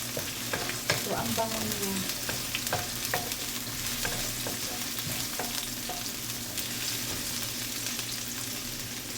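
Soup noodles with plenty of carrots being stirred in a frying pan, with steady scraping and clinking strokes over a continuous close sizzle; a voice speaks briefly.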